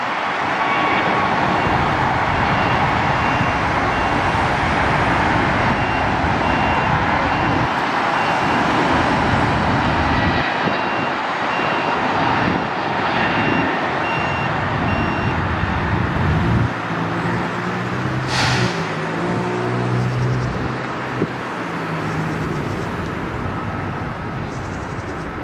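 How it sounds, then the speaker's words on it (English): An Airbus A321neo jet passes at LAX under cloudy skies, heard as a loud, sustained broadband engine roar that fills the whole stretch, with road traffic mixed in. "Here comes a 321 Neo."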